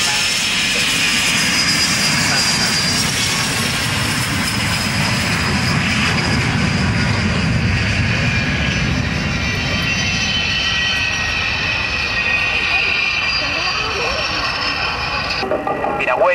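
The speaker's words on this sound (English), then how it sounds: "Patrulla Aguila is rolling. All 7 of them rolling down the runway together in their formation shape." Seven Patrulla Aguila jets rolling down the runway together in formation at an air show, a sustained loud jet engine roar with a high whine, steady and continuous from a distance.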